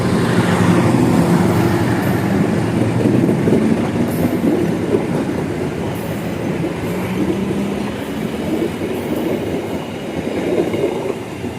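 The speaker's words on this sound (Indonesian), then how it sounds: "Kereta api Bengawan." Bengawan passenger train rolling past on the rails, a steady loud rumble with rhythmic clickety-clack of wheels over joints and faint squeals, continuous throughout with no talk.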